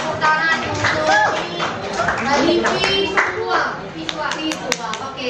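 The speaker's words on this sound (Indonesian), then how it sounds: "Oke, tepuk tangan untuk" Classroom of students clapping together, dense irregular hand claps with excited children's voices chattering underneath, loud and close throughout.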